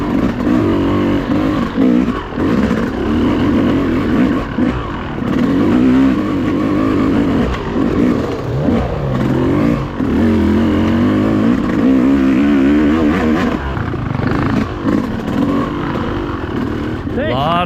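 Enduro motorcycles on a trail at the Cherokee National Enduro rev and rumble nearby, engines rising and falling with throttle as riders pass, while people talk over the steady loud engine noise.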